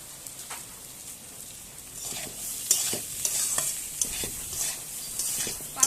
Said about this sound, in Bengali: থেকে 6 মিনিট মতো ওলটা শুধু ভেজে নেব।